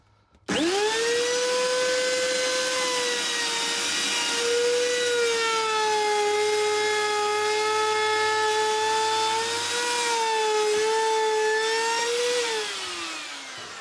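A Hoover vacuum cleaner runs loud and steady for about twelve seconds as a continuous motor whine, its pitch wavering slightly before spinning down at the end; no one talks over it.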